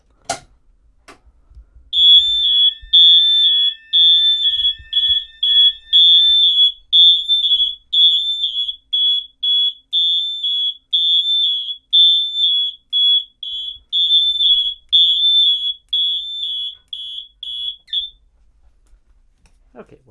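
A fire alarm system test, with MHW horns sounding march time and a GX91 sounding temporal: loud, close, steady high electronic beeps pulsing rapidly for about sixteen seconds, then cutting off into silence.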